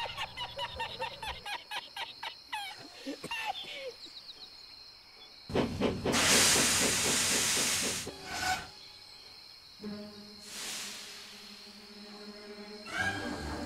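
A small narrow-gauge steam engine hisses in bursts of loud escaping steam, surrounded by clanking, rubbing rail and mechanical noises and a running musical background, with the longest hiss swelling near the middle.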